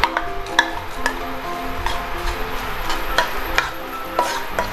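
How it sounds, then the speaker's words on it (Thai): Chili and garlic being stir-fried in a pan: soft sizzling under repeated scraping and tapping of a utensil against metal, close and steady. "นี่ก็ผัดให้พอมันหอมนะครับ"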